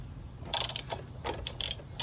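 Ratchet wrench undoing the 22mm axle bolt on a Honda GL1500 Goldwing front wheel, a few short bursts of close metallic clicking separated by brief pauses, with no talk.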